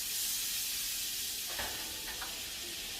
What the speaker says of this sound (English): take your 4 tablespoons or a quarter of a stick of butter, toss that in